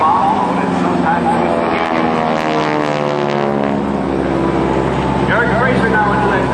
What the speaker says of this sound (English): Erik Frazier now into that coordination maneuver known as the barrel roll, a change of altitude, change of direction, and change of speed